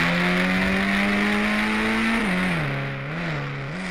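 A video game car drives steadily with a smooth engine tone that rises slightly, then dips and wavers as it shifts speed, loud and continuous with no talk.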